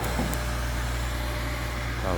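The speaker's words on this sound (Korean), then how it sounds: "모터는 Y 기동을 하고 있어요." Three-phase 220V motor running in star (Y) start on a control-circuit test bench, a steady low hum with a constant mechanical drone and faint whine, uninterrupted throughout.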